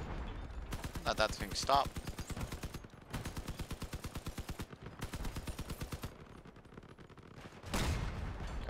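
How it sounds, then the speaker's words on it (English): Machine gun fire in the video game Crossout comes as long, rapid bursts of evenly spaced shots separated by short pauses, with a player's voice speaking briefly over it. "I do still have the machine gun though."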